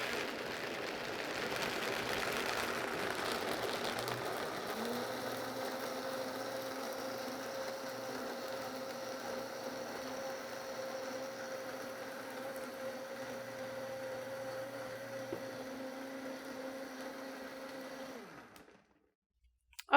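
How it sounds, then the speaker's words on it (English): A blender runs at high speed, processing almonds with water, vanilla and salt into almond milk, a steady whirring motor drone whose pitch shifts slightly early on and then spins down and stops near the end. "I'm gonna hit start, and we're gonna bring this up to high speed"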